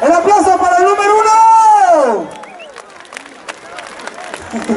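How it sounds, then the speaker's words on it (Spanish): A party crowd at a bottle game in Quinceo, Michoacán gives scattered, modest applause for contestant number one; sparse claps come near and loose after a loud, drawn-out shouted voice. "¡El aplauso para el número uno!"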